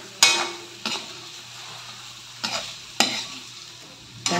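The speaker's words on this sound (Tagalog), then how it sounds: "Ngayon, haluin lang natin ulit." Spicy chicken adobo stirred in a pan: five distinct spatula scrapes and knocks at uneven intervals over a constant low sizzle, close and clear, with no talk.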